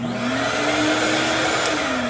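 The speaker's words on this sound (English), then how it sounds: "and the vacuum is on" A Ridgid shop vacuum hooked to a vapor blast cabinet runs with a steady, loud motor whine and rushing airflow, close and unbroken, with no talking.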